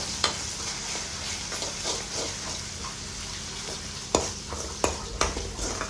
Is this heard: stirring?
yes